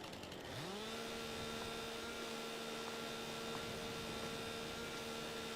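A chainsaw in the farming game Farming Simulator 22 revs up after a brief quiet start, then holds a steady droning engine whine for several seconds, fairly quiet with no talking.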